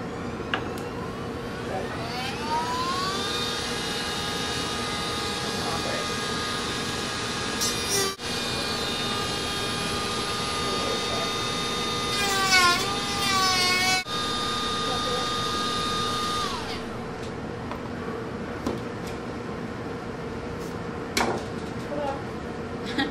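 A power tool cuts a notch in a PVC ROV motor mount, a sustained whining motor with tones rising and falling as the blade bites, steady and close.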